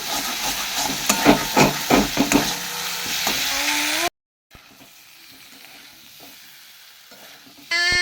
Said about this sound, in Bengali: ভালো করে এটাকে কষিয়ে নিই